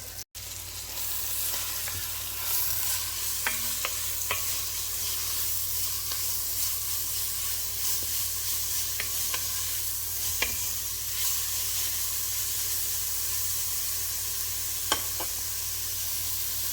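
Soup ingredients for a potato cheese soup with spinach and broth sizzle steadily in a pot, a continuous hiss of frying with a few faint clicks of stirring, close and alone without talk.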